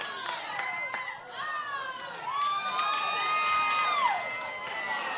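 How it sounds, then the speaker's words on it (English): Spectators at a high school boys lacrosse all-star game cheer and shout at a distance, a steady crowd roar with high whistles and youthful yells, with a commentator talking over it. "Crowd loving it."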